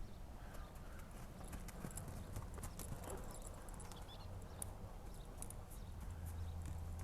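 Hooves of a horse clip-clopping during riding practice, a steady series of close, crisp hoof strikes over a continuous outdoor background, with no talking.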